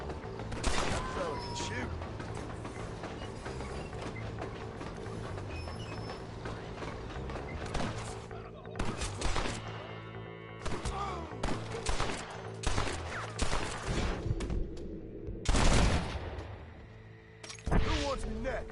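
Gunfire in the western game Red Dead: a sustained exchange of loud shots, with rapid bursts and single cracks. It drops away briefly, then returns in sharp clusters, with a late blast near the end.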